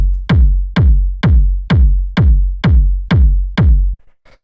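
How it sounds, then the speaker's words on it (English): Layered kick drum sample from a tech house loop at 128 BPM, built from two layers: eight punchy, deep thumps in a steady four-on-the-floor pulse, loud and alone, each with a sharp click decaying into a booming low tail. "the first sound that we have here is the kick"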